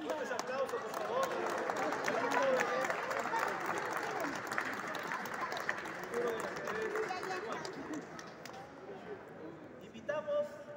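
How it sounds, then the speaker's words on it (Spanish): Audience applause fills a chess tournament closing ceremony, a steady, dense round of clapping from a crowd that holds strong for about eight seconds, then thins and tapers off near the end. "Fuertes aplausos, por favor."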